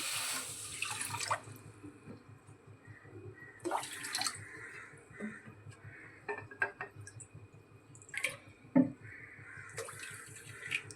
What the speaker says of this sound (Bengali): 1 বাটি চিনিতে 4 থেকে 5 বাটি মতো জল দিয়ে দিলাম।